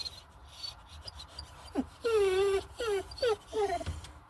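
A dog whimpers and whines in a park, its high, rising and falling cries close and repeated in short bursts over faint background hiss.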